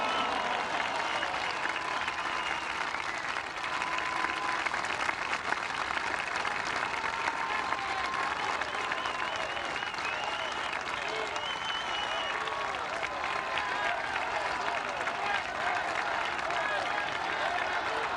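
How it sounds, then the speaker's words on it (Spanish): Loud, sustained applause from a large crowd at a Mexican government ceremony honoring the Armed Forces, dense continuous clapping filling the whole stretch with crowd noise mixed in. "les pido que les brindemos un fuerte aplauso a las Fuerzas Armadas de México"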